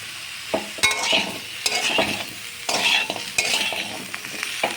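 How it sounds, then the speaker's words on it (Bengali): Mixed vegetables being fried with salt in a pan for Bengali sukto, with steady sizzling broken by several bursts of stirring and scraping against the pan, close and fairly loud. "এখন সবজিগুলোকে ভালোভাবে একটু আবারও কিছুটা নুন দিয়ে ভেজে নেব।"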